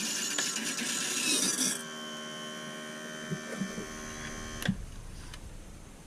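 A boat outboard motor's electric power trim raises the lower unit with a steady, tonal motor whine that stops abruptly near the end, after a brief rustle at the start.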